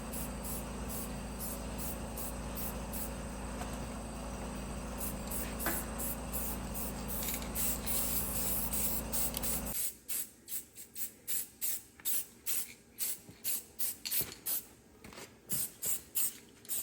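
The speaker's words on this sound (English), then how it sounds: "give it a quick spray of black paint" Black aerosol paint is sprayed onto the sump of a grey Ferguson tractor fitted with a Nissan engine. A continuous close hiss runs for about ten seconds, then breaks into a string of short, rhythmic spray bursts.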